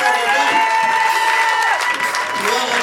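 A church congregation cheering and acclaiming in praise: a dense, loud crowd roar of shouts, whoops and applause, sustained throughout.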